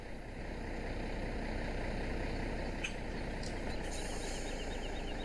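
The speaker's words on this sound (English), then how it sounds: "I've still got more truck running. I can hear something chugging away." A truck engine in the video game Farming Simulator 17 idles steadily, a low, continuous chugging drone, with a few faint chirps briefly above it.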